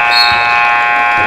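A loud, sustained electronic buzzer sounds at the end of the first quarter of a women's college basketball game between NYIT and Roberts Wesleyan, a steady harsh tone lasting over a second.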